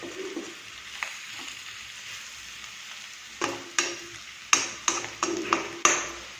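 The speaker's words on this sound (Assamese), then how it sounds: "এতিয়া এনেকৈ মোটামুটিকৈ 5ৰ পৰা 10 মিনিটমান ভালকৈ ভাজিলে বেছি ভাল হয়" Pork sizzles with spices in a pan under a soft hiss, while a series of sharp metallic pings and clinks from a spoon against the pan sound out in the second half.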